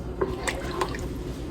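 Milk poured into homemade biscuit gravy in a pan, a soft liquid splash and drip with a few brief bursts, close and fairly quiet, with faint talk underneath.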